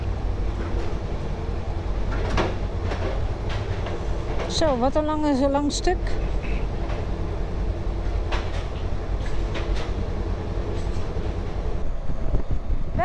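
A train rumbles and clatters steadily through the Eurotunnel with a constant roar, and a person speaks briefly over the noise partway through.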